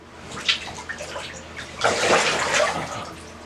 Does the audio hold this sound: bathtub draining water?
yes